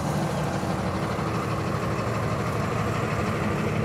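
A 2023 Freightliner M2 106 truck engine running at a steady idle, a dense low rumble that holds constant and close with no voices over it.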